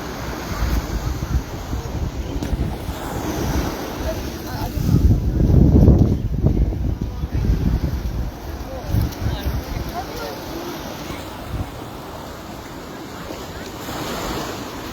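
Ocean waves splash and wash onto the shore at Waikiki, Hawaii, making a steady, loud roar of surf that swells in the middle, with heavy wind buffeting the microphone throughout.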